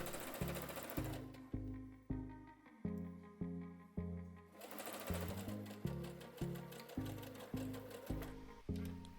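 A sewing machine stitches the side seam of a midi skirt, running in repeated close, loud bursts of rapid needle clatter with a brief stop partway through.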